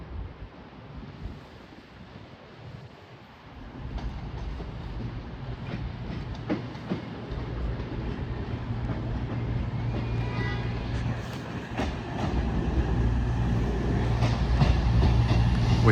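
A CrossCountry train pulls into Sheffield station, its low rumble and wheel clatter building steadily from faint to loud as it nears, with wind noise on the platform.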